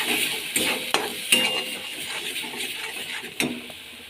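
Food in a pan stirred after sugar is added, with a soft sizzle underneath and a few distinct clinks and scrapes of the spoon against the pan.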